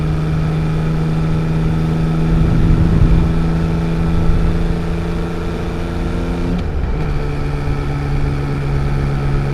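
Yamaha XSR900 25th Anniversary motorcycle cruising along a ridge-line road in Japan, a steady engine drone with a strong harmonic hum that swells slightly mid-ride and dips briefly before settling back, close and continuous with no talking.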